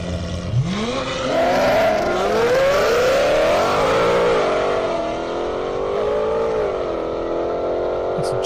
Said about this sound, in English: Hard to beat the sound of that Aventador,